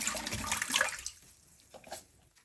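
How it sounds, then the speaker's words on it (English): Water gushes through the opened fill valve of a Kohler toilet with the cap removed, a strong hissing rush that gradually weakens and tapers off over a couple of seconds. "reach down and turn on the water. And that will flush out the valve before we use it"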